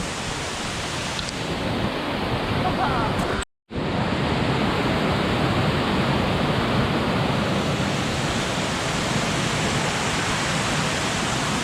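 A waterfall in Laos roars as a loud, steady broadband rush of falling water, close and continuous, broken only by a brief dropout.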